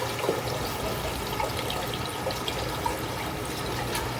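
Water drains steadily down into the sump of a workbench with a continuous close gurgle and rush, with faint small splashes and no talking.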